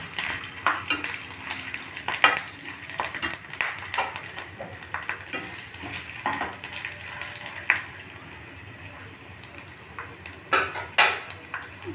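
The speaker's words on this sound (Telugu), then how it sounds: "ఎండుమిర్చి, వెల్లుల్లిపాయలు అన్నీ కాసేపు వేగనివ్వాలండి" Dried red chillies and garlic fry in a pan, a soft ongoing sizzle broken by repeated scrapes and clinks of a spoon against the pan, close and irregular, with no talking.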